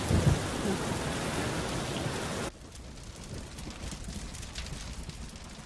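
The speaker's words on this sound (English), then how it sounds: "I just need a place to stay in the stables or something out of the rain." Rain falls steadily in a Legend of Zelda game scene, heavy at first with a low rumble of thunder, then dropping abruptly to a softer, thinner patter of rain partway through.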